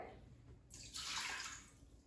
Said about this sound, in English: and add 1 cup of water.